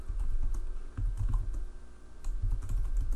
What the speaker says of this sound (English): For notes, we can type in any patient information